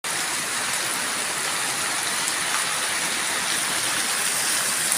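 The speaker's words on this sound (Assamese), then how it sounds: "আমাৰ ইয়াতে বৰষুণ, বহুত প্ৰবল বৰষুণ দি আছে" Heavy rain pours down in a steady, dense roar, loud and continuous without pause, with no voices over it.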